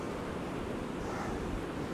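Sea waves wash steadily onto an East Coast beach at Easington, a dense continuous roar of surf mixed with wind buffeting the microphone, with no speech.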